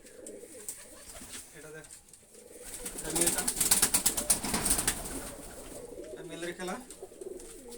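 Rajshahi Giribaz pigeons, a black master pair and their young, flapping and fluttering in a loud burst in the middle, with someone talking close by throughout.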